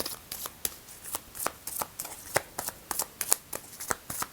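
Astrology cards are handled and shuffled during a tarot-style reading, a series of crisp, close flicking and slapping sounds in an irregular rhythm, fairly quiet and alone.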